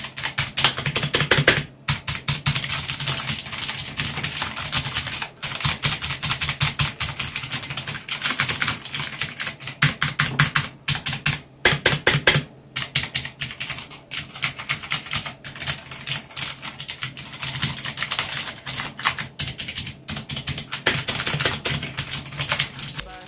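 Rapid, steady clacking of mechanical keyboard keys being typed on, close and loud, with a couple of brief pauses and no talking.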